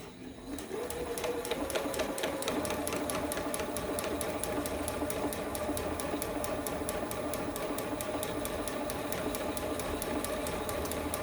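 A sewing machine stitches at a slow, steady pace around a curved traced line on an appliqué quilt block with interfacing over fabric, its rapid needle rhythm running close and continuous throughout.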